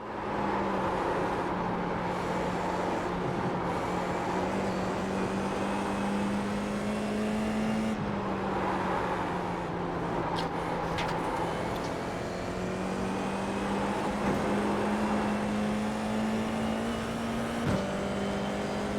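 Race cars lap a track in a steady, loud engine drone whose pitch wavers slightly as they hold speed. Other cars pass by faintly in the background, with no talking.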